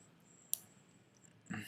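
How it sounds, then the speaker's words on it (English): A computer mouse gives a single sharp, faint click in a quiet room, followed about a second later by a brief noisy burst. "so I'm clicking over here."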